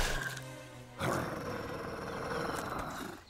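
A cartoon wolf lets out a sudden, loud, rough growl that swells and holds for a couple of seconds after a softer tonal passage.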